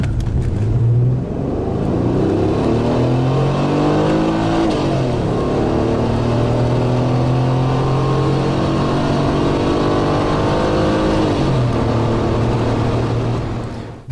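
A Renault Safrane Biturbo with a 260-horsepower twin-turbo V6 and all-wheel drive revs loudly, its engine note climbing through long rising sweeps with a pause between pulls, close and sustained with no talking.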